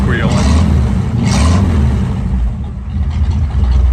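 A truck engine idles and runs steadily with a low exhaust rumble, loud and close, and a faint higher squeal from a slipping belt rising above it; a voice talks over the engine sound.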